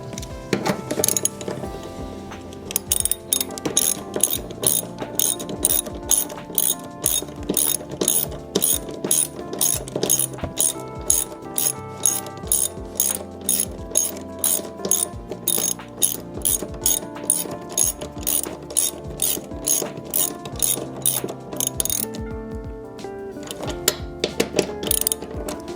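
A ratchet wrench tightens a bolt while a subwoofer is installed in a Lexus LX. Steady, rapid metallic clicking runs close up for the whole stretch, with brief pauses between bursts.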